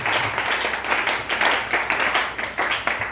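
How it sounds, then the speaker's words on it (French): A church congregation claps and applauds to acclaim the Lord, a loud, continuous wash of many hands beating in uneven surges, with no voices rising above it. "on acclame le Seigneur"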